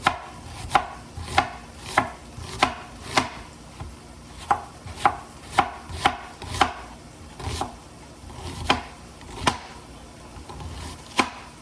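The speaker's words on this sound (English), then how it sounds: "you can cut your onion, I don't know, however you want it cut. I usually just slice it this way." A knife slices through an onion on a cutting board, producing sharp, evenly spaced knocks of blade on board at a steady rhythm, close and clear with no talking.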